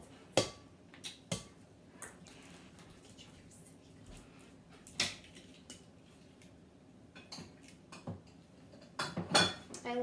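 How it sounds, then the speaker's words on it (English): Two eggs cracked into a small green bowl, several sharp taps and clinks of shell against the bowl spread through the clip, close and crisp, with a voice talking now and then. "we will crack 2 eggs"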